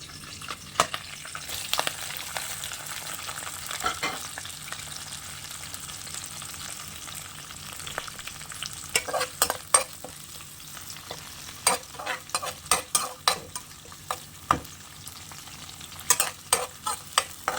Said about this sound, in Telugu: కొంచెం నూనె వేడెక్కిన తర్వాత కరివేపాకు, చిన్నగా కట్ చేసి పెట్టుకున్న పచ్చిమిర్చి, ఆనియన్స్ని యాడ్ చేస్తున్నాను